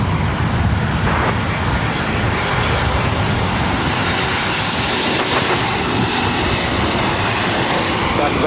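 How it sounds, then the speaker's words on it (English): A Southwest Airlines Boeing 737-700 jet arriving at LAX from San Francisco, a steady, loud broadband engine roar that holds constant throughout, with traffic noise blended in. "This arrival is Southwest Airlines 3207 coming in from San Francisco on the 737-700"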